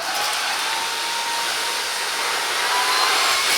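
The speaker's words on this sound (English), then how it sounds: "This vacuum delivers impressive performance." A Silvercrest cordless cyclone vacuum cleaner runs with a loud, steady, high-pitched whine and broadband airflow hiss, continuous and close with no talk.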